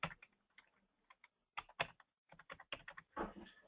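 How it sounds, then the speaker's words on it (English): Bursts of keyboard typing as a social security number is entered on a computer, quick irregular clusters of keystrokes with short pauses, close and fairly quiet. "Just simply type in their social security number"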